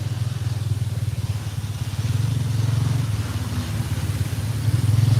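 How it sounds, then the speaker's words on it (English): Small engine of a tuk-tuk carrying a passenger through city streets in Cambodia on the way to Russian Market, a steady loud motorbike-like drone with traffic rumble, no talk. "I'm on my way to Russian market in a tuk-tuk."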